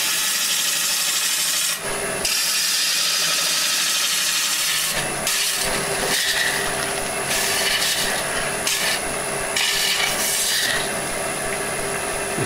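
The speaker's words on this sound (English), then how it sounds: "Just took a few shavings out of there with the back of the tool" Woodturning tool cutting shavings from a spinning wooden lamp base on a lathe, a steady rasping scrape with several short pauses and bursts as the cut is lifted and resumed, close and loud, no talk.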